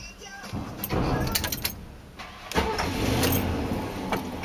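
A 25-year-old car engine cranks with a few uneven clicks and bursts, then catches and settles into a steady mid-pitched idle, heard close with slight jangling.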